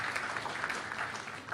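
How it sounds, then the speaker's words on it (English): Steady applause from a crowd at a summit event, a continuous patter of clapping at moderate volume with no voices above it. "A big round of applause for them once again."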